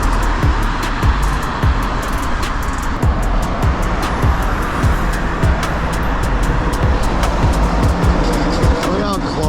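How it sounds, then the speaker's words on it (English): Steady roar of car traffic streaming past a rider on an e-bike moving at about 20 mph in a bike lane, with continuous wind and road rumble and repeated whooshes of vehicles rushing by close. "traffic whizzing by you"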